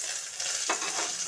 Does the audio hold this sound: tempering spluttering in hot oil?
yes